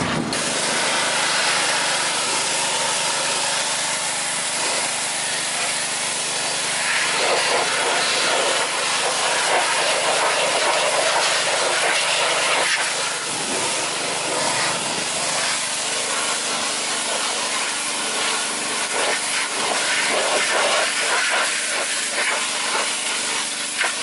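Aerosol oven cleaner sprays from a can onto car tires in a long, loud, continuous close hiss that shifts slightly in strength as the can moves, with no speech.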